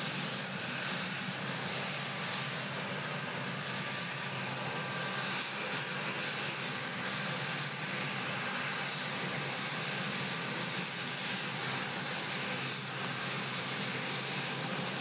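Continuous engine roar of helicopters at Windsor Castle, steady and droning with a high whine on top, no talking.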